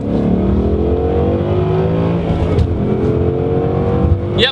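A 2015 Ford Mustang GT with a stock shifter accelerates hard through the gears, its engine note climbing steadily, then dropping at a shift and climbing again, loud and close from inside the car, with a brief clatter at the end.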